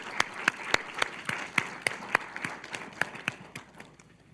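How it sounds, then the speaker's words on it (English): A conference audience at a research institute claps in thanks for the organizing committee; the applause is sparse and fairly quiet, with distinct individual claps rather than a dense roar. "if we can give them a round of applause"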